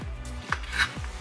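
A knife cuts smoked sausages into pieces on a board, three firm, evenly spaced chops close up with faint scraping between them, no voices.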